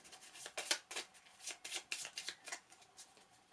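A deck of game cards for a Marvel Champions match is shuffled in a quick run of soft riffling bursts, close and fairly quiet, with no talk.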